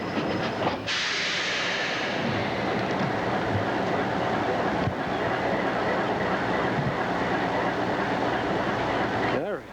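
A train runs along a railroad in Maine, giving a loud continuous rumble and hiss with rhythmic rail clatter underneath, close by, and a voice talks over it at times.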